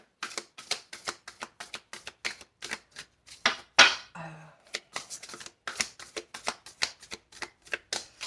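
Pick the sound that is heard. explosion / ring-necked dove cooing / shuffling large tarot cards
shuffling large tarot cards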